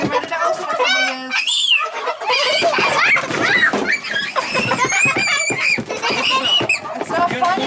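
Chickens cluck and squawk in a busy jumble while being moved to pasture on a farm, mixed with children's and adults' voices talking over them throughout.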